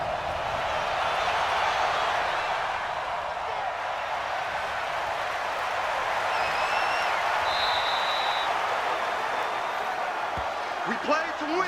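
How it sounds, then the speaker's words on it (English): Steady crowd roar from a virtual stadium crowd in Texas cheering for the Armadillos during a Madden 20 football game, a broad continuous wash of noise with a few faint whistles and calls rising above it. "now you can hear the crowd down here in Texas cheering on their Armadillos"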